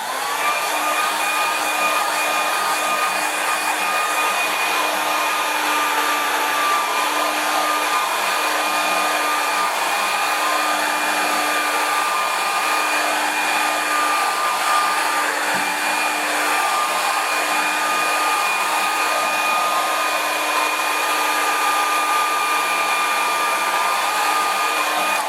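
A hair dryer blows steadily on a watercolour painting, a constant close whirring hum with a high whine that holds unchanged throughout, with no voices.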